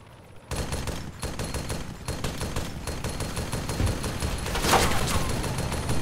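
Gunfire in the video game Arma 3 Altis Life: a rapid burst of repeated shots, then a dense fusillade of overlapping close and distant rounds continuing steadily without talk.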